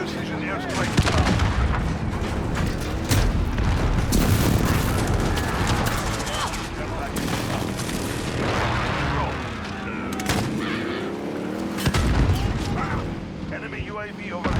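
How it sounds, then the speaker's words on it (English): Heavy explosions from a precision airstrike in the Modern Warfare video game, dense rumbling booms and blasts running almost continuously and loud, mixed with gunfire and game voices. "Enemy precision airstrike inbound."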